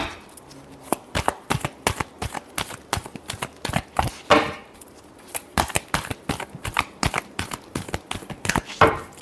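Tarot cards being shuffled by hand, a rapid run of crisp riffling snaps and flicks, close and moderately loud, continuing steadily with no talking over them.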